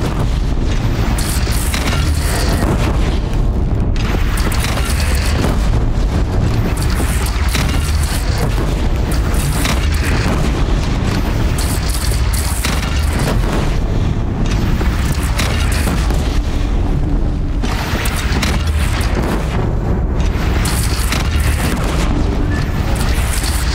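Cannon fire booms in a Horizon Zero Dawn battle, a loud, dense, continuous roar of blasts and rumbling that never lets up. No voices are heard.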